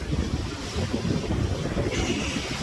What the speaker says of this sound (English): So this is what 20 knots of wind looks like.